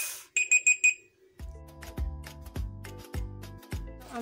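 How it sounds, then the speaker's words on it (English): A kitchen timer set for rising bread dough goes off with four quick, bright beeps, then stops. Several dull clunks and kitchen handling noises follow at a close distance. "First timer is off."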